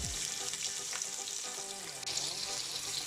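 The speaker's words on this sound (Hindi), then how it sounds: "तो ये जो प्याज हमने लिए थे वो हम इसके अंदर मिक्स करेंगे।" Onions hitting hot oil and frying for kaleji ka salan, a dense continuous sizzle with a stirring swish at the start, close and steady throughout.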